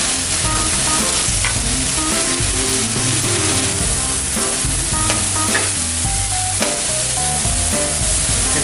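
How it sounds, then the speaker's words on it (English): Onions and peppers fry in a pan with a loud, steady sizzle that stays close throughout, while a utensil stirs and scrapes through them in repeated strokes. No one speaks. "Just gonna kind of stir it up, making sure nothing's burning on the bottom."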